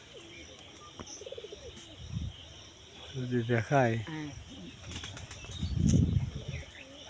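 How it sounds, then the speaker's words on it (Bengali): Pigeons give soft, low cooing calls outdoors in open farmland, with a brief flutter of wings, insects buzzing faintly in the background and someone speaking briefly. "ওই দেখেন কবুতর বসে আছে"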